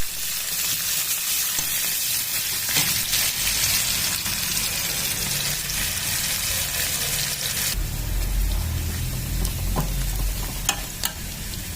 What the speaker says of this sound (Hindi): ये मशरूम की सब्जी बनने जा रही है और उसका ये तड़का है।